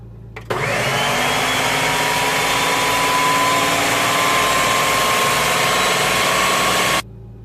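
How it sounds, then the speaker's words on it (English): A blender whirs steadily through a batch of cooked carrot soup, loud and close, with a sustained motor drone that starts abruptly and cuts off after about six and a half seconds. "let's see if the blend will work"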